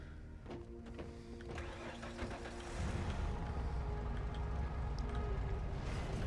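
Off-road quad vehicle engine in the Red Faction video game, a steady mid-pitched motor drone that grows louder and fuller partway through, running continuously without pause.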